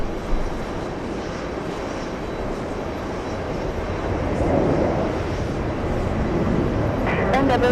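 An American Airlines Boeing 767 airliner at JFK airport, bound for San Francisco, gives a steady broad jet engine rumble that swells slightly midway, heard from a distance with no one speaking.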